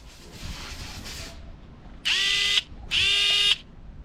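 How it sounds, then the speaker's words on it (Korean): A Hivro 300 cordless electric screwdriver whirs in two loud, steady high-pitched bursts, each about half a second long, following a softer stretch of background noise, with no talking. "최강의 야전용 전동 드라이버 하이브로 300."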